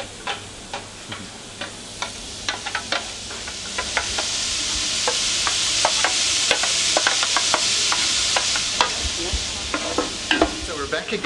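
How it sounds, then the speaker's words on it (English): Onions, garlic and celery soften in butter in a pan for mussel soup, a close, steady sizzle broken by frequent sharp clicks and taps of stirring. "So we just really want to soften all these ingredients in the butter."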